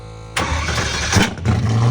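A Pagani Zonda engine fires up and revs hard, loud and close, with a roaring burst followed by a second surge.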